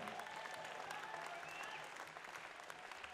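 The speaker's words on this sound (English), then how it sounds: "having a big round of applause for these two fighters here tonight" Steady crowd applause at an MMA event, a dense wash of clapping from many hands that continues throughout at an even, moderately distant level.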